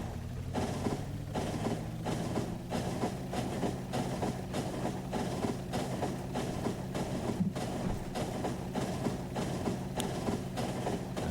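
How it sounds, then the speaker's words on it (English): A train rolls along in the factory game Factorio, a low engine rumble with a regular clickety-clack of wheels over rail joints repeating steadily throughout, near and alone. "So let's take a ride on the train."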